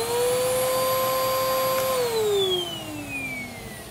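Vacuum cleaner, a 10 amp model 12B1 with a broken belt, running close and loud with a high motor whine that drops in pitch as it winds down.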